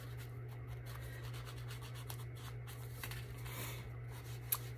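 Soft, quiet rubbing and scraping as paper edges are distressed all around for a three-pocket belly band craft project, in repeated short strokes over a constant low hum.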